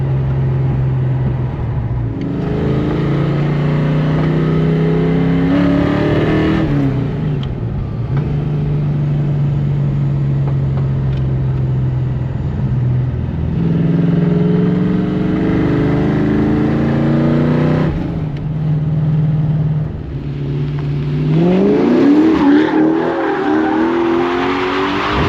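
Hard-driven beater car with a Posi 3.73 rear axle, its engine roaring loud and close through repeated rising pulls, with tire squeal and skidding noise climbing near the end.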